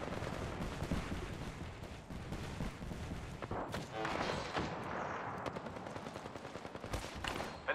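Bursts of gunfire and automatic weapon fire in an Apex Legends battle royale match, dense and continuous with overlapping shots and thuds, moderately loud throughout.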